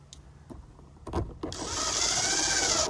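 A few clicks and knocks give way to a power drill whirring loudly and steadily, like driving a screw at close range, fitting LED lights to a Toyota Land Cruiser 300 tailgate.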